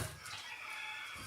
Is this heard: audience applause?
no